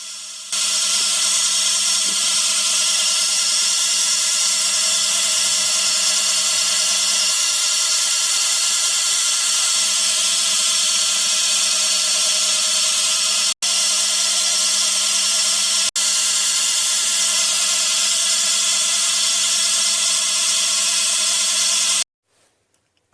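A small cutter machines a microscope reticle carrier for a centring microscope, giving a steady, high, whining mechanical drone that runs evenly for about twenty seconds before stopping abruptly.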